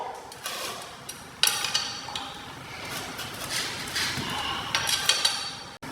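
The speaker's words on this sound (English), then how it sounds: "So just alternate bolts back and forth till it's tight." Bolts being tightened on a Prodigy scooter: faint metallic clicks and small clanks from the tool and parts, irregular and close, with a soft handling rustle between them.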